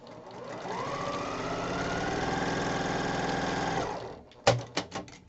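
A sewing machine chain-piecing quilt blocks with a quarter-inch seam runs in one steady, close whirring stretch, stops, then gives a few short separate bursts of stitching, with no speech.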